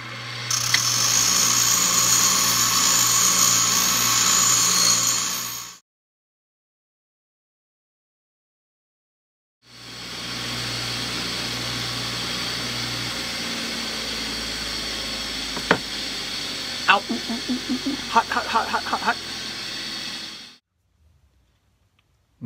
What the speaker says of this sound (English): So here we are at the grinding wheel with our pliers and our quarter.